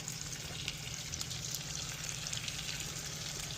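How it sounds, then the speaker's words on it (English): Butter melts and sizzles in a pan on a small stove inside a van, a steady soft crackling hiss close by that continues evenly throughout. "Butter is melted"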